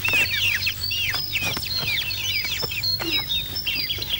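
Chickens in a rural Vietnamese village yard cluck and chirp steadily, with many short overlapping calls close by and no talk.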